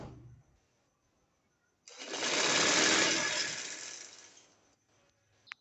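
A sewing machine stitches a poncha in one continuous burst of rapid mechanical whirring, swelling up quickly and then tapering off over about three seconds, with quiet before and after.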